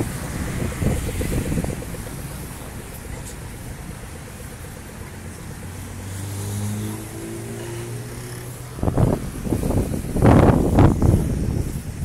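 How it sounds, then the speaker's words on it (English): Cars rush past one after another with rising and fading whooshes, and wind buffets the microphone throughout. "You have no idea how many cars there are."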